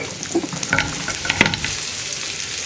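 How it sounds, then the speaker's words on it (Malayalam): Onions sauté in a small amount of oil in a pan with a close, steady sizzle, broken by a few scraping stirs of a utensil against the pan. "ഇനി ഞാനൊന്ന് സവോള വഴറ്റിയെടുക്കാൻ പോവാണ്"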